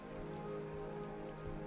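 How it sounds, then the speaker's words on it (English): Soft, steady rain patters faintly and evenly in Minecraft, a quiet continuous wash of drops with a low hum underneath. "It's raining"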